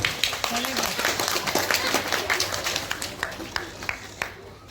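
Audience clapping at a stage function, a dense patter of many hands with sharper claps throughout, mixed with background crowd noise and fading slightly at the end.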